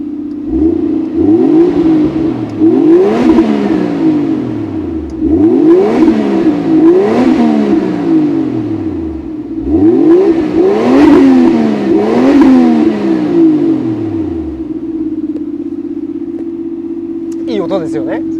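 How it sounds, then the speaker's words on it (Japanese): Toyota Soarer JZZ30 25GT-T exhaust muffler revving in repeated bursts: four strong rises and falls over a steady idle, loud and close, settling back to idle near the end. "じゃあマフラー音ちょっと聞いてみましょうか。"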